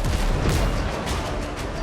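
Ship cannons firing volleys in the naval game Windrose, a dense continuous rumble of deep booms with no clear gaps, loud and close throughout.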